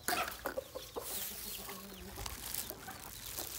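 A hen with young chicks clucks in soft, repeated bursts outdoors near a feeding spot, with other faint farmyard bird calls scattered around at low volume.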